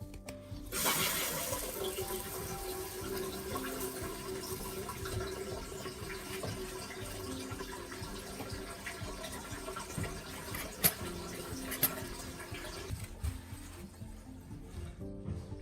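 A toilet tank refills after the water supply is turned back on: a steady hissing rush of inflowing water runs for over ten seconds, with a couple of sharp clicks near the end before it tapers off. No talking.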